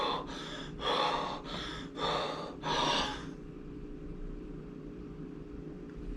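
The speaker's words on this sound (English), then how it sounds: "you take a couple deep breaths" Several deep breaths taken in preparation for funneling a beer, four or five loud, close, rhythmic inhale-exhale bursts in quick succession, then a quiet background hum.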